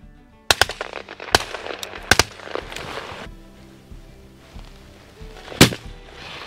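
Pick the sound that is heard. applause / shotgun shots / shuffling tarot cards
shotgun shots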